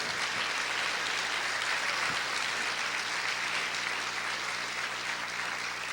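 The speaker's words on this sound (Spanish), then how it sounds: "Si ese aplauso es para el Señor, déselo fuerte." Dense, sustained applause fills a church during a sermon, a congregation clapping continuously and loudly with no voices standing out.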